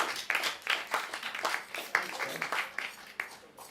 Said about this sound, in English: Give a round of applause for Bub here opening up the show.